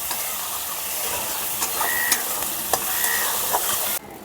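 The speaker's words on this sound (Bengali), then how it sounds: "কিছু সময় নিয়ে মশলাটাকে কষাতে থাকবো" Spice paste for mustard pabda fish frying in oil while being stirred, a steady hiss with sharp scraping strokes and brief squeaky tones from the utensil, fairly close.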